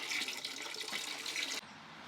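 Water runs steadily into a container, a continuous bright splashing rush that cuts off abruptly near the end, leaving a quieter hiss.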